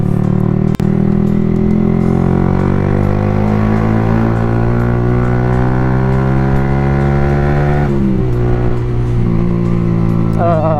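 A Yamaha R15 V3 motorcycle engine runs steadily up close, its rough, buzzy harmonic note slowly rising in pitch and then dropping near the end, with no talk over it.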